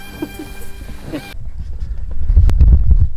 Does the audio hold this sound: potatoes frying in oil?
no